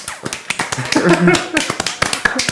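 A few podcast hosts applaud themselves at a studio table, sharp scattered hand claps near the microphones mixed with laughter and chatter throughout.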